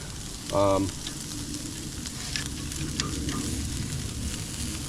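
Lamb chops searing on a Napoleon TQ1165PO portable RV gas grill, a constant low sizzle and crackle of fat over flame, with a brief tonal beep or voice-like burst near the start.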